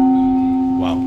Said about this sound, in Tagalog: Subukan nga natin kung ano tunog ng tiny gong